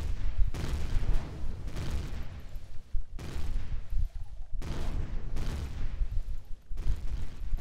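Turret gunfire in the space game Empyrion Galactic Survival comes in long, loud sustained bursts, several rattling volleys separated by brief gaps.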